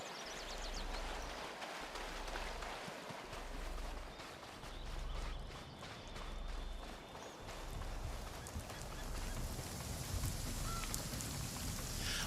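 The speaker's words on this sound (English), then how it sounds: "Always raining over here." Constant rain hisses in a video game, a dense steady downpour with a low rhythmic thumping underneath.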